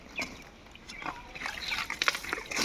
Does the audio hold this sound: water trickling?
yes